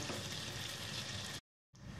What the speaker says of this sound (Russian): Жарим пончики на огне выше среднего.